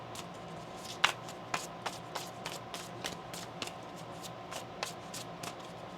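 Tarot cards shuffled by hand, a soft steady riffle of papery flicks and taps repeating through the whole stretch, close and fairly quiet with no voice.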